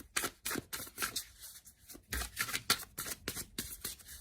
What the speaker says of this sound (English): let's give the cards a good shuffle and see what comes up.